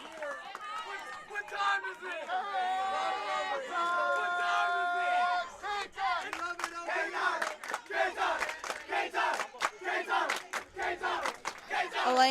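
Crowd noise at a high school baseball game between The First Academy and Trinity Catholic, with loud shouts, yelling and cheering rising in bursts and staying busy throughout, fairly close and full.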